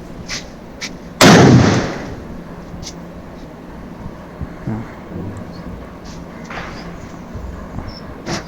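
An atom bomb firecracker, lit directly in Tamil Nadu, goes off in one loud, sharp blast that decays over about a second, followed by quiet outdoor background with faint scattered sounds.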